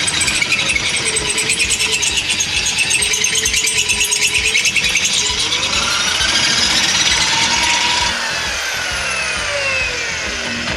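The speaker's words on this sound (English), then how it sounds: "we're gonna drill the holes out" A power drill enlarges the bolt holes on a cheap aftermarket exhaust header for a Lexus IS300, grinding loudly and continuously through the metal with a rattling, buzzing whine that eases slightly near the end.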